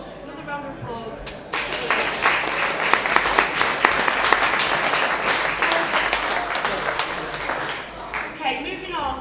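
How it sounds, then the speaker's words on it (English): Live audience at a gig breaks into sustained, dense applause and clapping that swells after a brief pause, with a few voices audible at the start and end. "Another round of applause."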